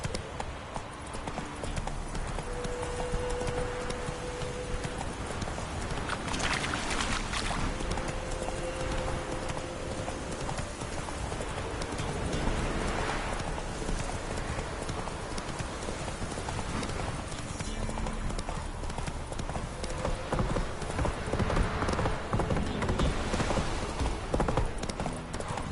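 Roach the horse gallops in The Witcher 3, hooves clip-clopping in a steady driving rhythm across a dense, loud game soundscape, with faint brief tones and an occasional whinny-like sound mixed in.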